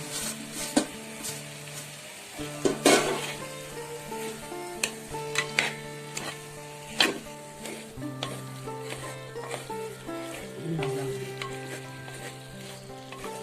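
Drumsticks and mashed tomato gravy sauté in a pan for a mookirattai drumstick kuzhambu, crackling and sizzling steadily, with scattered stirring knocks and clinks on top.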